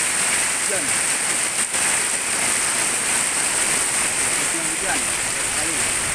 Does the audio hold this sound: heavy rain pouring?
yes